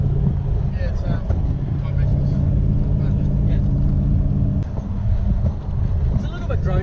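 A Toyota Hilux fitted with a 1UZ V8 engine drones with a low, continuous rumble from inside the cab, with the window down. Wind buffets the microphone and faint voices sit under the engine.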